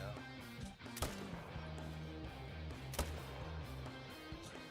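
Two sharp rifle shots fired at a black bear in a hunting video game, a second apart, each a loud crack over steady in-game music and ambient hum.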